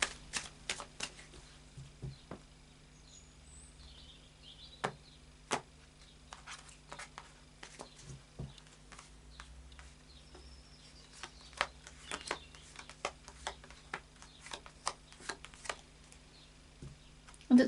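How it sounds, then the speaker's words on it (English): Quiet, intermittent tarot card shuffling with soft riffles and taps scattered across the clip, no voices, a faint steady hum beneath. "let's carry on shuffling"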